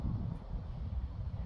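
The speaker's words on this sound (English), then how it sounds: "I was literally just about to say that it's quite windy." Wind gusts outdoors buffet the microphone, making a low, rumbling roar that is steady but fairly faint across the brief moment, with no talking.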